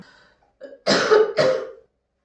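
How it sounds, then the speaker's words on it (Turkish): Two harsh coughs in quick succession, close and fairly loud, preceded by a faint throat-clearing sound; a lingering cough after an illness. "Öksürüğü hala devam ediyor."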